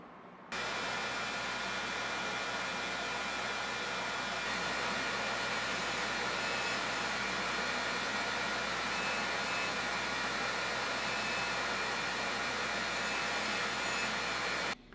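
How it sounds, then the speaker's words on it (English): A grinder shapes and refines a pair of Sgian Dubh knife blades, giving a steady, loud, unbroken whirring hiss that holds constant for the whole stretch with no voices. "both blades will be shaped and refined on the grinder"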